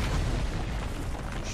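A grenade blast in the video game Resident Evil 3, a dense, loud rumbling boom with heavy low-end sustained across the whole moment, no voices over it.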